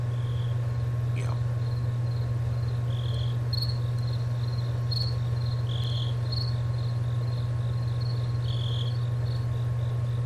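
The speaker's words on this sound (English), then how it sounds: "That's right, crickets." Crickets chirp in a steady, continuous pulsing chorus, with a low constant hum underneath.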